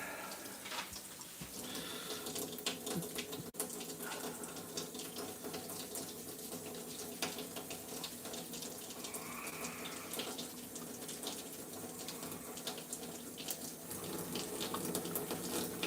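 Water runs steadily from a tap, splashing and rinsing over a small RC nitro engine being washed and degreased, a continuous close hiss and patter with no speech.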